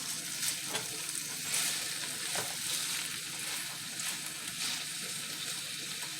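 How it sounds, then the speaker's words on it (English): Bacon and sausage frying in a pan, a continuous close crackling sizzle with occasional spatula scrapes as the meat is stirred around, moderately quiet and without talk. "we just keep this going, stir this all around."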